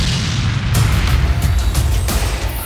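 A Spike missile explodes on an enemy position during house-to-house combat, a loud, dense, booming roar with sharp crackling bursts over a heavy low rumble throughout.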